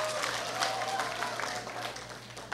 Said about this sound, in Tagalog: Yan ang palakpak ng hindi naniniwala sa Diyos.